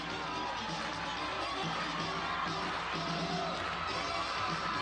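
A large arena crowd at the 2004 SEC Gymnastics Championships cheers for gymnast Chelsea with a loud, continuous roar of voices, whoops and yells, holding steady the whole time.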